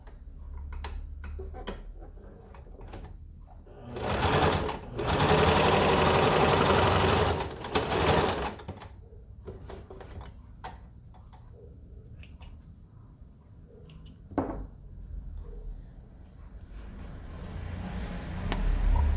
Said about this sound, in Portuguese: Agora, é só ir novamente para a máquina e passar a última costura.